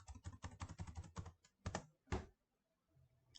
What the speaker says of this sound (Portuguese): E vamos começar digitando alguns nomes aqui.